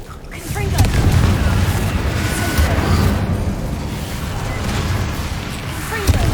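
Magical Confringo fire-blast spells bursting in combat in the video game Hogwarts Legacy, a sustained rumbling boom with layered low-end impacts and crackle over about six seconds, a voice casting the spell over the din.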